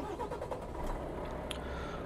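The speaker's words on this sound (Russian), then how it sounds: "Давайте включим двигатель." A Volvo FH12 truck engine starting in Euro Truck Simulator 2, a brief cranking catch that settles into a steady low diesel rumble, heard close and alone.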